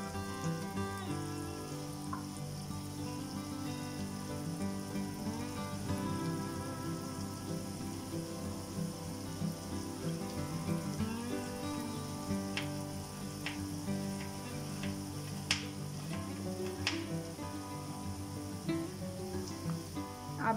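Chopped onions sizzle and crackle steadily in a hot pan of oil, a continuous close frying hiss with occasional sharper pops and faint stirring, no voices.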